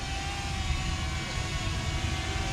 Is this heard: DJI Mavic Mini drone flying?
yes